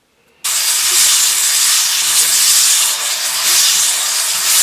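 A brake shoe is rubbed against self-stick sandpaper lined inside a brake drum, making a steady, loud, close abrasive hiss that starts abruptly and continues unbroken.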